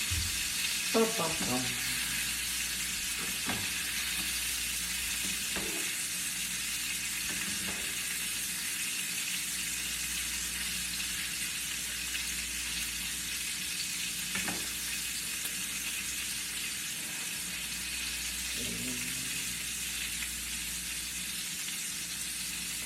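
Steak sears in butter in a pan with a constant, quiet sizzle, broken by occasional clinks and scrapes of a utensil against the pan.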